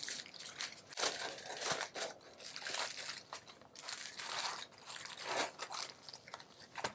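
Foil paper crackles and crunches as it is folded and wrapped around cassava paste to make bobolo. The crinkling is close and continuous, with irregular bursts throughout.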